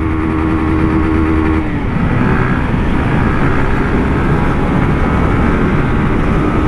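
A new motorcycle rides through unfamiliar city streets, its engine a steady, loud drone throughout, with a brief shift in tone early on and no voices.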